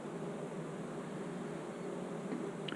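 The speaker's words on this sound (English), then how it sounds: "There's probably enough bees here to do our shake." Honeybees swarm around an open hive during a summer mite check, their steady, dense buzzing close by and unbroken, with no voices.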